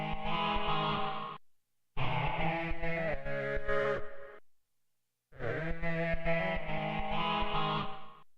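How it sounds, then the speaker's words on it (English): Loud processed musical tones from a beat with gated reverb, a harsh, effected texture that cuts off abruptly, playing in three bursts separated by short silences. "This is called a gate reverb."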